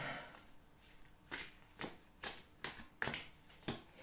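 Crisp riffling bursts of playing cards being shuffled, six or seven quick repeated shuffles in a steady rhythm, close and clear with no talking.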